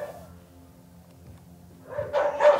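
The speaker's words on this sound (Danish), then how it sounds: "nu begynder den allerede at gø" A dog barks inside a house, a couple of sharp, close barks rising abruptly at the end after a quiet, low background.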